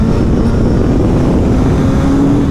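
Suzuki GSX-S 1000 World Edition motorcycle being ridden, a loud, steady engine roar with heavy wind rush, close and continuous with no pauses.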